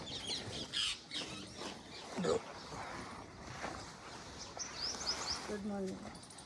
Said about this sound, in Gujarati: અને જો આસમાન અને પક્ષીઓનો અવાજ મસ્ત આવે છે.